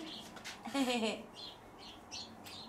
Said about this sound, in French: Écoute le gazouiller, ici, il est content, le chéri